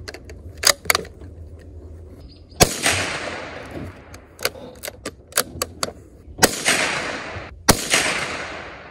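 Sharp cracks from a Marlin XT-22 bolt-action .22 rifle firing at soda cans 100 yards out, several loud reports spaced seconds apart with fainter clicks and taps of the bolt and handling between them.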